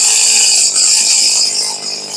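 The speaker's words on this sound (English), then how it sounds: "we're going to turn the idle up a little." A Stihl weedeater engine idling after a carburetor rebuild, a loud close steady buzzing drone with slight waver, alone.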